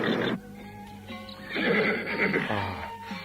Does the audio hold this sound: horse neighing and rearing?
yes